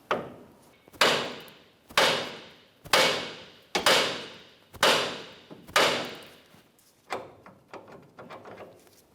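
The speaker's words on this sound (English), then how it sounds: "I'm just going to go ahead and continue with a hammer." A hammer strikes the steering knuckle of a 2004-2015 Nissan Titan to free the inner tie rod end, about eight loud, sharp metallic blows at a steady rhythm, close to the microphone and without talk.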